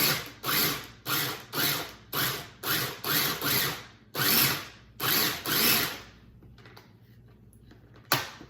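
A small mini food processor pulses chili ingredients with liquid, giving about ten short, loud motor bursts in a quick rhythm, then a quiet stretch and one final brief burst.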